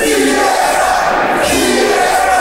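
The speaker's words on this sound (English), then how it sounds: "Darrien Sanders getting a CSW chant going in lieu of his Let's Go Darrien chants." A capacity crowd in a pro wrestling arena chants during a CSW match between AJ Styles and Darrien Sanders, a loud, continuous roar of many voices rising and falling in rhythm from start to end.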